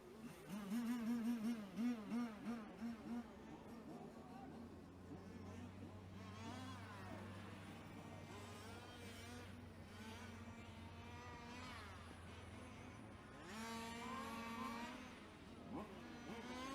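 Radio-controlled 2WD sedan race cars run warm-up laps on a track, a steady high whine of small motors buzzing and rising as they pass, with a public-address voice talking over the engines throughout.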